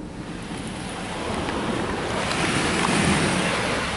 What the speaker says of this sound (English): This is probably going to be a spot-free rinse.